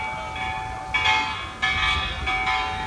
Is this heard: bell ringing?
yes